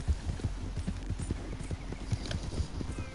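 Horse hooves clip-clop in a steady trotting rhythm within a video game, each low thud clear and close, continuing evenly throughout with no talk over it.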